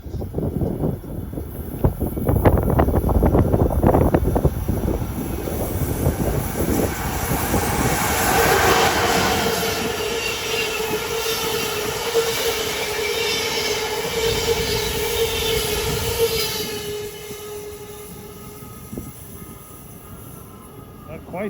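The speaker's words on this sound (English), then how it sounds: "approaching is Amtrak number 93, en route from Boston to Newport News, Virginia" Amtrak train 93, bound from Boston to Newport News, Virginia, rumbles past close by in Philadelphia with a loud, sustained roar and rhythmic wheel clatter that slowly fades as it recedes.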